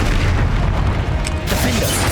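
A Confringo spell blasts in Hogwarts Legacy, a loud, heavy boom that fills the moment with a dense, roaring burst and lingering rumble.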